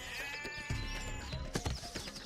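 Sheep bleating in a cartoon telling of The Boy Who Cried Wolf, a few wavering bleats in close succession, loud and near, with no speech.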